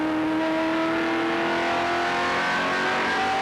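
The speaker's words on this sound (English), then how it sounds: "Smooth on and off the throttle. Love to listen to that." A race car from the 1999 USAR Hooters Pro Cup Series at Greenville-Pickens, heard onboard, its engine droning loud and steady with rising and shifting tones as the driver works the throttle, no talk.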